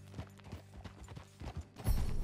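Horse hooves clip-clopping in a video game, a steady rhythmic series of close, soft thuds at a walking pace, growing a little louder toward the end, with no talk.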